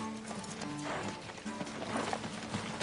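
A horse's hooves clop rapidly on the ground in a quick galloping rhythm, close and fairly loud, with a faint whinny underneath.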